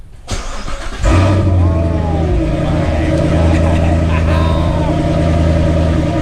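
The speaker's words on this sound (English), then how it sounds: "let's start it up with the new AWE exhaust" A Corvette Grand Sport engine with an AWE Touring exhaust and X-pipe cranks and catches after a second, then settles into a deep, loud, rumbling idle from the exhaust, with a voice briefly underneath.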